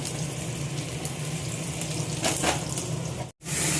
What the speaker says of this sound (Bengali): আর এবার পেঁয়াজটা ভাজছি